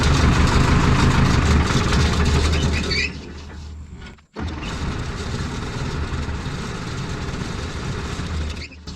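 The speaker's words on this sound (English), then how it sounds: "Is it going to run now?" A dozer's diesel engine struggles to start and run, rumbling loudly, dropping away and briefly cutting out, then catching again with a steady rough idle close by.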